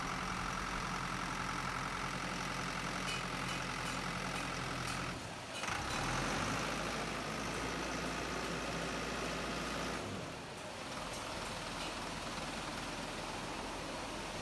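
A KCB machine's engine runs at a steady idle in a repair workshop, a low continuous drone that briefly dips twice and carries on, with no voices over it.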